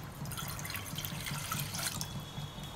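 A glass of water pours into a pot on a high flame for payasam, a short steady splashing trickle heard close and fairly quiet.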